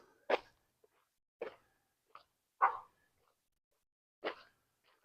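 Several dogs, at least fifteen of them, barking outdoors in the Harbour Landing area of Regina in November: five short, sharp barks spaced irregularly, clear and moderately close, with quiet gaps between them.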